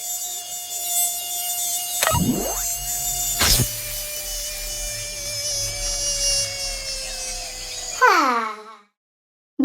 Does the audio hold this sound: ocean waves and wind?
no